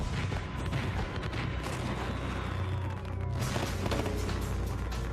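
Fireworks explode in a continuous chain reaction at an evacuated site, a dense, loud barrage of overlapping booms and crackles with a constant low rumble, as steady bursts keep firing throughout.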